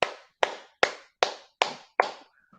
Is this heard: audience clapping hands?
yes